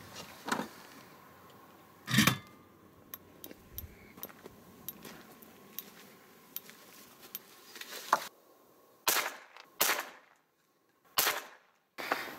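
Rifle shots fired at a target during scope zeroing, several sharp cracks spaced apart with quiet gaps, plus lighter clicks and handling noises between them.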